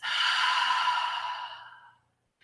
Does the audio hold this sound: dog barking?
no